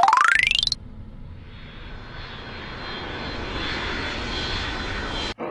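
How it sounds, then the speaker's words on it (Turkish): Large airplane engines produce a steady, loud, broad roar that holds for several seconds, preceded by a brief rising electronic tone at the start. "ne kadar büyük bu uçaklar"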